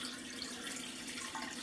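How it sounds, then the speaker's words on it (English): Meatball sauce liquid pours steadily into a crock pot, a continuous close splashing stream with no talk over it. "So the first thing I'm going to do is pour a little over half of our liquid"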